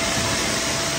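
An Interpump 200-bar, 15 L/min pressure washer pump driven by a 5.5 kW motor runs with a steady, dense, broadband whir, loud and close, with no talk over it.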